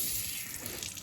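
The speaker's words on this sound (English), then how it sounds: "Just a little water on the finger today." A bathroom tap runs steadily for wetting shaving lather, a close, continuous hissing stream of water into the sink with no voices.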